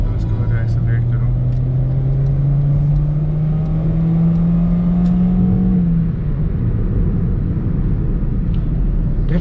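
A fifth-generation Honda City sedan's engine revs up in a steadily rising drone for about six seconds, then eases off, loud and close with constant road-like rumble underneath.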